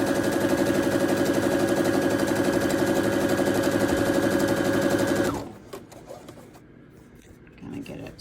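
A sewing machine stitching two pieces of pillow fabric together, running loud and steady with a fast even rhythm for about five seconds before stopping, followed by quieter handling noises.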